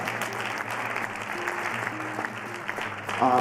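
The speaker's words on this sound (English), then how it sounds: "give everyone here a round of applause" An audience at a keynote gives a round of applause, a steady, even clatter of many hands over a low hum, holding at moderate level, with a short higher tone near the end.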